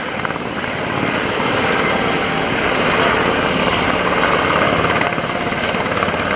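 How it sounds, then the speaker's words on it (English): Loud, steady rotor and engine roar of an MV-22 Osprey tiltrotor aircraft at the NAS Oceana airshow, close by and continuous throughout, with a dense broadband wash and no voices. "Now we've seen the capabilities of the new MV-22 Osprey"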